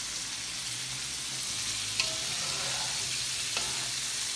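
Seasoning sizzles steadily in a pot for a Jamaican Sunday dinner, with soft stirring and a couple of light scrapes over the constant frying hiss.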